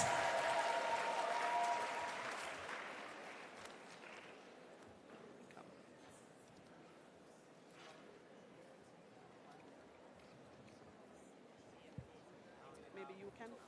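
An audience applauds saxophone and flute performers at a teachers' engagement session, the clapping loudest at the start and fading within a few seconds into quiet room noise with scattered faint sounds.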